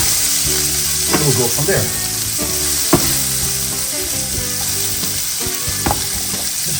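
Salted onions sizzle steadily in a pan as they caramelize for French coq au vin, a constant frying hiss with occasional stirring clatter and taps, while a person briefly talks over it.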